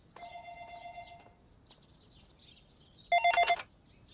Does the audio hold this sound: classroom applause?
no